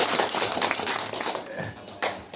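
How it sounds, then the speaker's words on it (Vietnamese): Guests clapping at a traditional Jarai wedding, a busy patter of many hands with irregular loud claps standing out, close and lively over a bit of background chatter. "chúng ta cho một tràng vỗ tay nữa"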